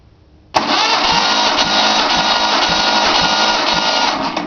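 A 1976 Datsun 280Z engine cranks over for a compression check, starting abruptly and holding a steady, loud rhythmic churning from the starter for several seconds, close up, with no voices.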